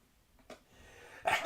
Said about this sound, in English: I'm so sorry for sneezing